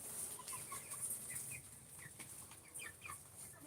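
Chickens cluck faintly in the distance after heavy rain, short scattered calls repeating irregularly over a steady hiss, with no voices.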